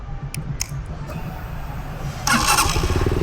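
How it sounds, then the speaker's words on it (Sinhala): A Tycorun scrambler motorcycle engine starts after a few clicks, catching at once into a steady, loud idle rumble close by. "මම බයික් එක ස්ටාර්ට් වුණා."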